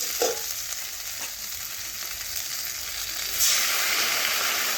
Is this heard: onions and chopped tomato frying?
yes